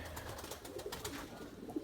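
Erzurum white pigeons coo softly in a loft where chicks are being raised, a low continuous murmuring heard close by with no talking.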